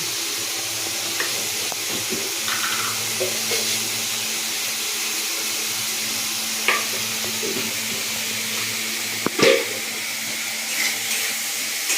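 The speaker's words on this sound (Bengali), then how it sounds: "একটু জল দিয়ে দিই।" Hot frying masala for potol dorma sizzles steadily after water is added, a continuous close hiss with occasional stirring knocks.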